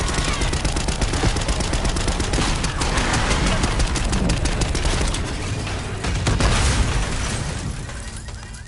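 Dense, loud bursts of automatic gunfire and explosions in a Black Ops 6 campaign street shootout, sustained rapid shots with booming impacts throughout, nearly continuous and close.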